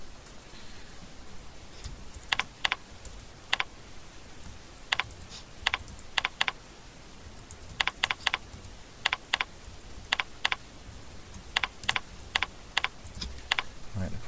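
Keys clatter on a computer keyboard in short irregular bursts of crisp clicks, close by and fairly quiet over a low background hum, while text is entered into an InDesign layout.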